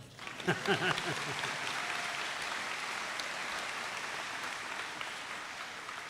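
A crowd at a university convocation ceremony breaks into applause, a dense sustained wash of clapping that swells quickly and holds steady, with a few voices audible at the start.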